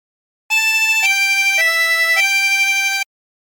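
A reedy 16-hole tremolo harmonica phrase from the hymn Be Thou My Vision: four sustained notes with a wavering, pulsing tremolo, playing alone for about two and a half seconds.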